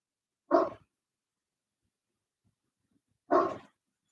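A dog barks outside, two single short barks about three seconds apart, clear and moderately loud against an otherwise silent background.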